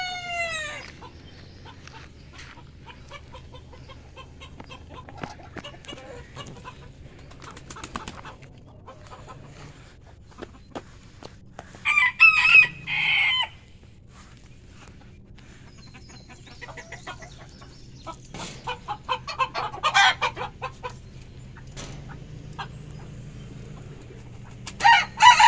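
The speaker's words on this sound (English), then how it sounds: "We're gonna go tend to the chickens, turkeys, and ducks." Chickens and roosters on a farm that also keeps turkeys and ducks: a rooster crows loudly at the start, then scattered clucks follow, with louder bursts of birds in the middle and near the end.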